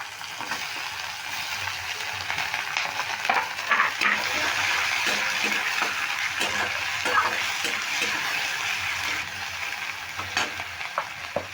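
Finely chopped tomato goes into a hot frying pan and is stirred, giving a steady loud sizzle with scraping and clatter of the spatula against the pan throughout.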